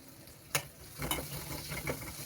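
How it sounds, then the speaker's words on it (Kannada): Curry leaves and crushed ginger fry in a pan with a faint, steady sizzle, broken by a few brief stirring scrapes close by. "ಎಲ್ಲ ಹಾಕ್ಕೊಂಡು ಚೆನ್ನಾಗಿ ಫ್ರೈ ಮಾಡ್ಕೋಬೇಕು ಇದನ್ನು."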